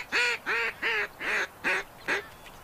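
Six loud, evenly spaced duck quacks from the Duck Dynasty video game, each call short and nasal with a falling tail, repeating in a steady rhythm with brief gaps and no talk over them.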